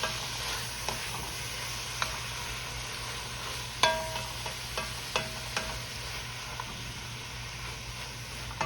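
Potatoes and green beans are stirred in a pot over a steady low sizzle, with a few sharp clicks and scrapes of the spoon against the pot sides scattered through the stretch. No one speaks.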